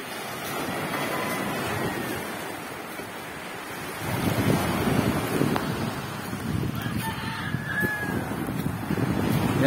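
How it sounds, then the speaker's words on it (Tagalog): Pacific Ocean surf off Catanduanes rolls in under strong, gusty wind that buffets the microphone, a steady roar that swells louder about halfway through. "Pacific Ocean. Medyo mahangin. Lakas ang agos papunta sa loob."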